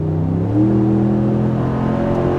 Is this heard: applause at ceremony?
no